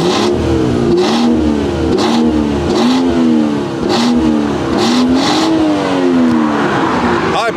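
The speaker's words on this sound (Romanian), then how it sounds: "Se aude bine, dar mașina e gătuită de turbine" A BMW G30 540i sedan revs hard in repeated bursts, its engine climbing and dropping in pitch with each throttle blip, loud and close throughout.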